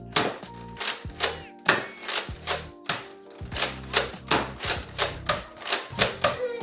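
Dart Zone Quadrablast dart blaster being primed and fired: a close, steady run of sharp plastic clacks and snaps in quick rhythmic succession, with no talking.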